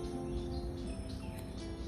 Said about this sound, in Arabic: صوت العصافير لوحده